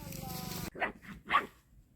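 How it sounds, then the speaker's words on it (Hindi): A small puppy, one of four littermates, barks outdoors in Pune beside roti laid out for them. There are three short, fairly close yaps, following a brief burst of other sound. "ये पिल्ला जो है अभी इधर से आ रहा है"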